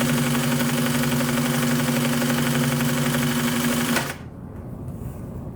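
A variable-speed sewing machine stitches upholstery welt, running in a steady loud mechanical whir with a rapid needle rhythm for about four seconds before it abruptly stops, leaving a quiet room.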